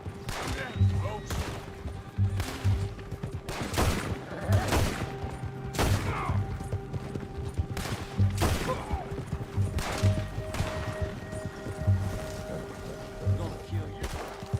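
Gunfire during a shootout in the video game Red Dead Redemption 2, repeated loud gunshots cracking every second or so over a dense game soundscape, with speech from game characters mixed in.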